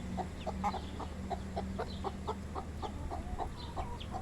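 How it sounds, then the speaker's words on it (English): Backyard chickens and a rooster cluck in a quick, irregular run of short calls at a moderate distance, with a low steady background hum and no talking. "We have 12 chickens and 1 rooster."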